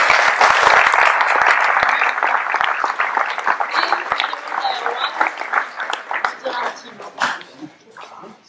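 Audience at a town sports awards ceremony honouring athletes applauds loudly, then the clapping thins and fades into scattered claps and murmuring voices, with a dog barking briefly in the background.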